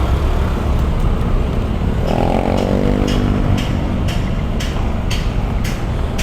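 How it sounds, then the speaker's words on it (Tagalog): Honda Click scooter being ridden on a road, a steady droning engine with wind rush and a brief rising tone as it speeds up, loud and close with no talking. "Itong motor na to guys, nabenta ko na kasi. Ito yung unang-una kong motor, yung Honda Click."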